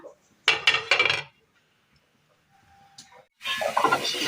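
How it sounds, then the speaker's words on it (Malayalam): A lid goes onto a cooking pan holding soya chunks simmering in a little water: a quick cluster of metallic clinks, a quiet gap, then a longer rattling clatter as it settles. "ഇനി നമുക്കിതൊന്ന് മൂടി വെച്ച് കൊടുക്കാം"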